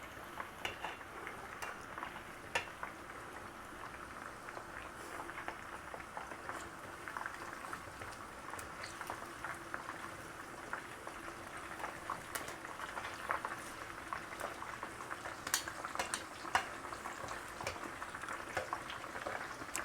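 Chicken biryani frying and bubbling in a pot, a faint, steady sizzle and simmer with scattered small pops and crackles running throughout, no voices over it.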